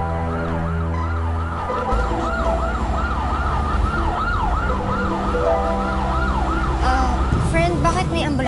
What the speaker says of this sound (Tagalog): bakit may ambulansya?